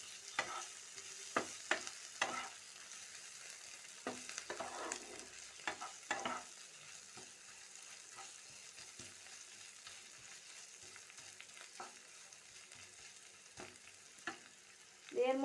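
Minced garlic and a half spoon of ginger stir-fry in a hot pan with a soft, steady sizzle, punctuated by repeated scraping strokes of a spatula, fairly quiet and close, with no talking.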